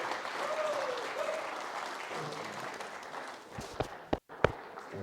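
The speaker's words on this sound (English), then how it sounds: "give him a massive, massive, massive round of applause" A crowd applauds as Omar is welcomed onto the stage at a motivational talk, a fairly soft, steady wash of clapping with a few sharp louder claps and knocks near the end.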